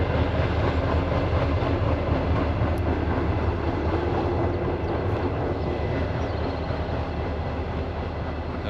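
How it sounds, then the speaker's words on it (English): A train rumbles past nearby with a loud, steady low roar and faint rail clatter, lasting throughout with no pause. "here comes the daggum train"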